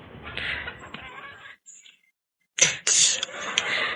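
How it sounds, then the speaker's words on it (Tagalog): Chickens clucking and squawking nearby over outdoor background noise, with a short lull before a burst of louder calls. "Mga manok. Manok ng lola ko."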